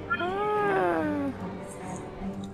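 A cat meows in the horror adventure game The Last Door, one long, drawn-out wail that rises and then falls, clear and close, followed by quieter game ambience.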